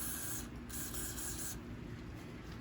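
A can of WD-40 sprays onto the flywheel nut of a 2012 Yard Machine mower left outside for years, giving a close, faint, steady hiss with a short break partway through.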